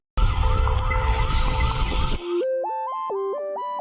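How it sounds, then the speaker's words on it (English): A loud police siren wail rings out over a dense, driving band in a song, then cuts abruptly to a bright stepped synth melody. "followed by police sirens"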